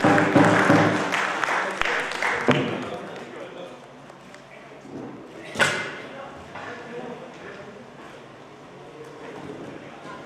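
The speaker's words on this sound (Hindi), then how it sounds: "ऐसी हमारी लोक माधुरी बसवाज के लिए बस जोरदार तालियां।" Loud applause from the audience at a folk culture award ceremony during a festival, strong at first and then fading into a murmuring crowd, with one sharp thump partway through.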